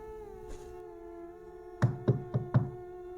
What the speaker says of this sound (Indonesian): tiba-tiba saja ada suara ketukan di pintu depan.